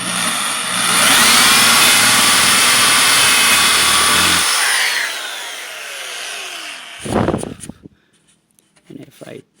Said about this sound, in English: the last and final step will be to drill from the outside in.